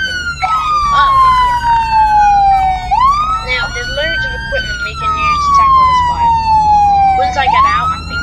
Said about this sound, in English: Hopefully it's on all teams to turn the sirens on.